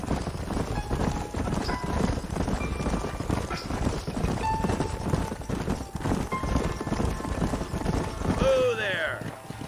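Horse hooves clip-clop steadily in the Red Dead Redemption game as riders travel toward a canyon, a continuous busy layer under talk and background music, with a brief whinny near the end.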